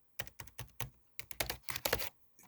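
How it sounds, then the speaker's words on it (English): Fast bursts of keystrokes on a computer keyboard, close and crisp, tapping in quick uneven clusters with short pauses between runs. "The keyboard."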